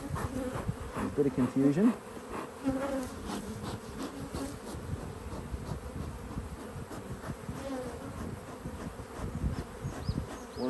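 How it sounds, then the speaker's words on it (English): Honey bees buzz steadily at a backyard hive during an inspection, a dense, continuous hum close by with a brief low voice early on. "We've had a few bees arrive."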